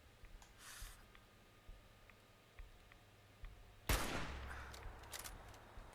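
Sniper gunfire in the video game Fallout 4: a few faint distant cracks early on, then one loud sharp shot followed by a broad rumbling blast and scattered smaller reports.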